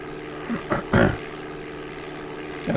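A propeller airplane engine in the DOS game Flight Simulator 5.1 drones steadily throughout, with a few brief louder bumps over the constant hum.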